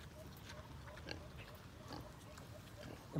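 Piglets in a farm pen give soft grunts and small squeals, faint and scattered, while a person talks nearby over a low background hum.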